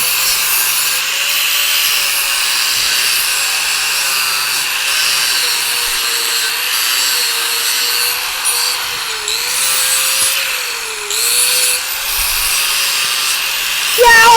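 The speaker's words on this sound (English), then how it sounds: "Just going to grind these up, straighten these up a little bit." Pieces being ground with an angle grinder, a loud, continuous high-pitched whine of abrasive on metal that holds steady for about fourteen seconds, its pitch dipping slightly as the load changes.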